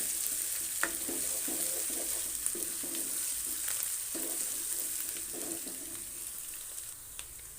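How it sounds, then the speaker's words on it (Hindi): Ginger garlic paste sizzling and frying in a pan for karahi gosht, a steady close crackle with periodic bursts of stirring scraping through the oil, no talking. "अब इसके साथ हम डालेंगे अदरक लहसुन का पेस्ट। अब इसको भी हल्की सी भुनाई करेंगे।"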